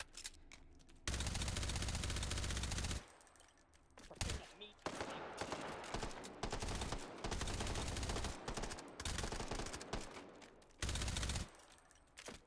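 Bursts of rapid automatic gunfire from the VR shooter Hot Dogs, Horseshoes & Hand Grenades, played on an HTC Vive, come in several loud, dense volleys separated by brief gaps, with quieter single shots and clatter in between.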